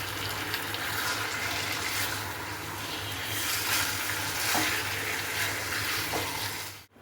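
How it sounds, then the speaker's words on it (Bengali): Chicken shallow fries in oil with a spiced masala, a loud, steady, close hissing sizzle that runs without a break and stops abruptly at the end, with no talking. "এই চিকেনটাকে দিয়ে এটাকে একটুখানি স্যাডো ফ্রাই করে নেবো"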